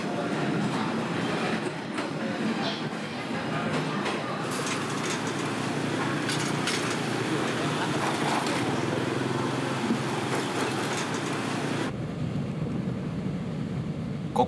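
A train roars past close by through a narrow gap between buildings in Hanoi, a loud continuous rumble and rattle of wheels that cuts off abruptly near the end.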